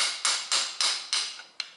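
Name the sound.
hammering on Toyota Corolla driveshaft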